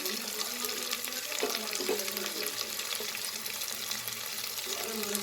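Steady sizzling of frying in a pan while making Ranebennur-style biranji rice, continuous and fairly quiet, with soft stirring scrapes.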